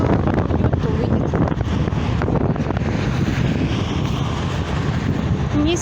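Strong wind blows outdoors in Omsk near a large construction site and arena, a steady roar of gusts buffeting the microphone that holds loud and continuous throughout.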